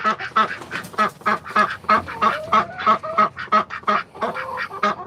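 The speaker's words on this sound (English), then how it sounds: "here's my ducks" Ducks sitting on perches on a farm quack in a rapid, overlapping chorus of loud, close honking calls that carry on without a break.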